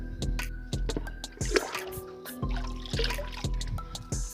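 Rainwater pours and is strained, trickling and splashing close by in uneven bursts with occasional knocks and clatters, while a voice is faintly heard underneath.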